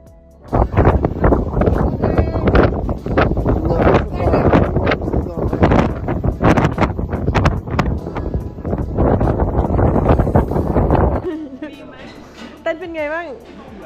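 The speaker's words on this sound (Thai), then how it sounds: "ลมยังคงแรงอย่างต่อเนื่องนะคะ" Loud, gusty wind buffets hard on Mulayit mountain, roaring and flapping in bursts, with voices talking over it near the end.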